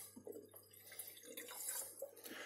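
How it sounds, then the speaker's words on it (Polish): Water pours into the small tank of a Severin KA5978 portafilter espresso machine, a soft, steady trickling and splashing heard close up for a couple of seconds with no talk. "Nalewamy 250 ml wody do zbiornika"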